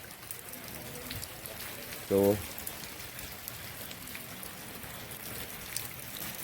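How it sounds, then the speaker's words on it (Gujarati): Heavy overnight rain in Bagasara makes a steady hiss of rainfall and running water, with one short voice in the middle. "આજે અમે તમને બતાવી રહ્યા છીએ બગસરાનો વરસાદ જે આખી રાત પડ્યો"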